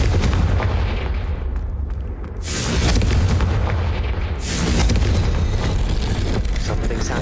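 A Confringo fire spell bursts in Hogwarts Legacy, a loud booming blast that swells around the middle and again later, with rumbling explosive noise filling the whole stretch.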